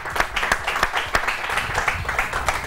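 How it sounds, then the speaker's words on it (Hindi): A studio audience claps in steady, dense applause, moderately loud and close, lasting a few seconds with no break. "तालियां प्लीज"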